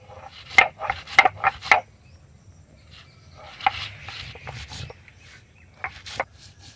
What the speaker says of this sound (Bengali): লঙ্কাটা বেটে নিই